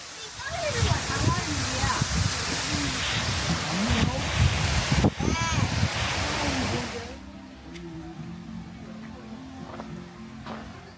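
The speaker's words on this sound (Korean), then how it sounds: "길이 유리로 되어 있어서 시선을 아래로 돌리면 폭포가 흐르는 모습을 발 아래에서 볼 수 있습니다." Yongchu Falls pours below a glass walkway as a steady, loud rushing roar for several seconds, then fades back while a voice talks over it.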